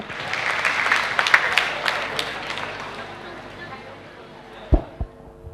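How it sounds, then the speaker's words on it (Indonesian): Warm applause for Professor Haryono Suyono at a community gathering, a dense crowd clapping loudly for about three seconds before thinning and fading out, then two heavy thumps near the end as the room settles. "Kita beri tepuk tangan yang meriah untuk Bapak Haryono"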